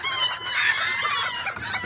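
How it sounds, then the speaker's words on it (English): Close, loud chickens cluck and crow in a busy, overlapping burst, with raspy calls filling the short moment. "Oh, chicken's going crazy."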